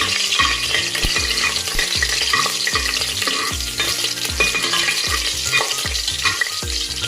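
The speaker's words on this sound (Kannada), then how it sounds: "ಚಕ್ಕೆ, ಲವಂಗ, ಏಲಕ್ಕಿ ಕಾಯಿ, ಸ್ಟಾರ್ ಸ್ವಲ್ಪ ಫ್ರೈ ಮಾಡ್ಕೊತೀನಿ." Cinnamon, cloves, cardamom and star anise fry in hot oil, loud, continuous sizzling crackle with a regular rhythm of spatula strokes scraping the pan, close and without speech.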